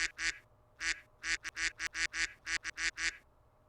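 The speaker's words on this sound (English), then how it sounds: "It's not my duck button, but I'll have to do." Rapid duck quacks played from a soundboard button, about a dozen loud nasal honks in an uneven, bunched rhythm with no talk over them.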